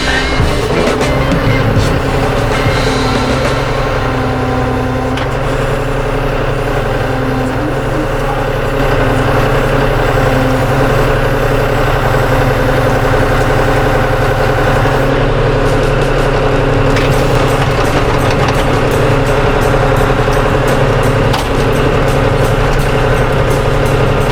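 Tractor engine straining as it pulls honeysuckle out of the ground with an attachment, a loud steady low-pitched drone that holds near and constant throughout.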